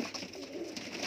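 Pigeons coo faintly at a breeder's sale, soft and muffled under a steady hiss of background noise.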